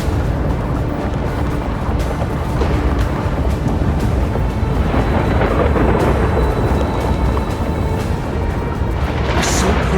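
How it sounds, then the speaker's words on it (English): Deep rolling thunder in the Honkai Star Rail video game, a loud continuous rumble with a crackling strike near the end. "lightning and thunder"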